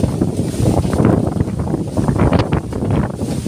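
Strong monsoon wind driven by Typhoon Carina roars and buffets the microphone in loud, continuous gusts, a broad rushing noise with no clear pauses.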